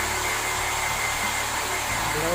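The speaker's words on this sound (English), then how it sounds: "Yeah, and then we blow." A hair dryer blows steadily and loudly at close range while drying freshly highlighted hair, its constant rushing whoosh filling the whole stretch.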